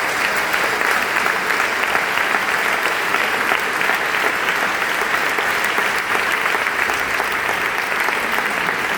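An audience at a citizens' assembly on psychiatric care applauds the event organisers, a loud, continuous wash of many hands clapping that holds steady the whole time without voices.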